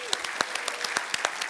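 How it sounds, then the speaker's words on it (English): Audience at a tech conference closing session applauds volunteers, a short burst of clapping with a few sharp, distinct claps standing out over a continuous, moderately loud patter. "a round of applause to our volunteers"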